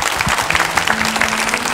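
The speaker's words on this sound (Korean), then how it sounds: "하나님께 영광의 박수는 아낌없이" A church congregation at a Friday worship service breaks into dense, sustained applause, many hands clapping together at a steady loud level without letup.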